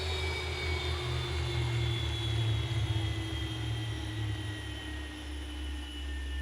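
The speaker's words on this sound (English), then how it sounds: "that engine spool down sound that we love so much." Boeing 737 jet engine spooling down in the X-Plane 11 flight simulator, a steady whining drone with high tonal lines and a low rumble that gradually settles, without talk.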